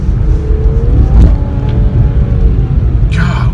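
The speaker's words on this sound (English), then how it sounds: "it has a unique sound. It doesn't sound like every other car." A 2018 Infiniti Q60 sports coupe engine rumbles and revs up loudly nearby, a throaty, slightly whiny drone that swells and settles.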